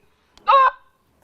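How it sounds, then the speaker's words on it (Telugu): A bird-scaring loudspeaker device used to drive birds and wild boars from crop fields gives a single short, honking squawk, loud and isolated against near silence. "కంటిన్యూగా ఆరు గంటల సేపు అరుస్తుంది ఇది"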